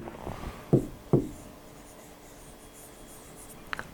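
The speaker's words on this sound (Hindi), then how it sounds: "तो हम यहाँ पर लिखेंगे" Marker or chalk writing on a board during an Arabic vocabulary lesson, a few soft scratchy strokes with sharp taps as the tool meets the surface, faint and close in an otherwise quiet room.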